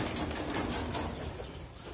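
Racing pigeons at a loft, giving soft cooing calls with faint wing flutter, quiet and somewhat distant, with no one talking.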